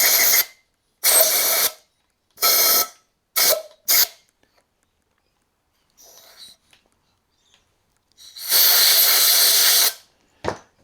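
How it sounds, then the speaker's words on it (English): Compressed air blasting out the screw holes of a Stihl 009L chainsaw near the bar oiler, in a run of loud, close hissing bursts: four short puffs, a brief one, then one longer blast after a quiet pause. "Just blow out those screw holes as well."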